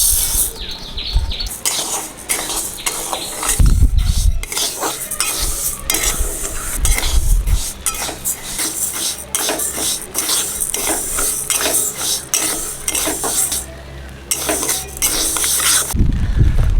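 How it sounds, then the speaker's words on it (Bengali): Dal being fried and stirred in a pan by a home cook working outdoors under a large umbrella. Close, loud, continuous sizzling is broken by steady scraping strokes and metallic clinks of the spoon against the pan. "ডালটা ভেজে নিচ্ছি"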